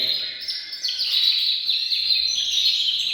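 Many small birds chirp and tweet continuously in a dense, bright chorus, like a full aviary, with no voices.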